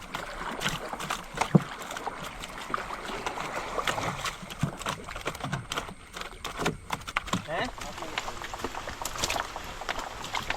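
Oars knock and splash in an uneven rhythm as a wooden boat is rowed during net fishing in monsoon rain, with voices talking over the water noise.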